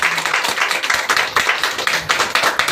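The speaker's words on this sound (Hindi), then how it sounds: "जोरदार ताली होनी चाहिए।" Loud audience clapping at a welcome during an Indian gathering, dense irregular hand claps with sharp individual slaps standing out, steady and close throughout.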